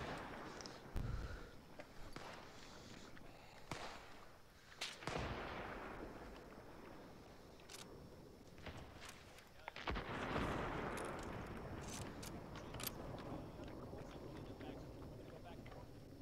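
Rapid heavy anti-aircraft gunfire booms repeatedly in the ArmA 3 video game, with sharp bursts and a steady rumble throughout, under frequent excited talking.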